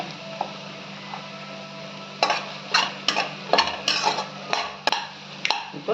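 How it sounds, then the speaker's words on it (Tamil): Curry leaves, chilli powder and turmeric powder fry in a pan of tomato rice, a soft sizzle under a run of clinking, scraping stirs from a utensil against the pan. "இப்போ கொஞ்சமாக மிளகாத்தூளும் மஞ்சத்தூளும் போட்டுருங்க கருவேப்பிலை போட்டுருங்க"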